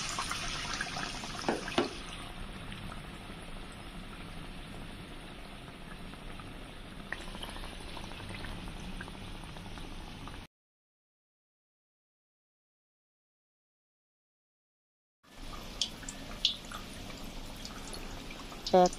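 Bread pakora, slices of bread dipped in batter, fries in hot oil with a steady close bubbling sizzle for about ten seconds, then a few seconds of silence, and the frying resumes with small clinks.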